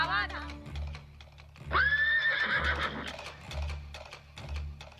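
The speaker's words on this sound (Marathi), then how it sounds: "अरे हे घोडे आमच्या दिशेने येत आहेत." Horses whinny loudly and close, one long neigh in the middle, over a low rumble of approaching hooves that swells in waves, while people's voices are heard underneath.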